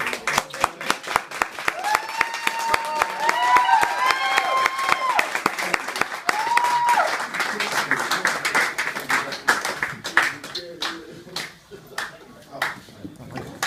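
Wedding guests applaud in a sustained round of dense clapping that lasts throughout, with cheers and voices rising above it.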